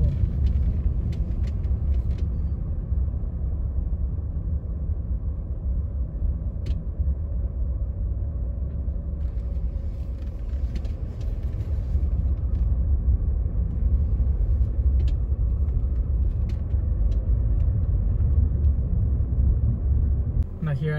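A car cruises through a residential neighborhood in Buena Park, Orange County, California, with a steady low road rumble from inside the cabin. Someone talks over the engine noise.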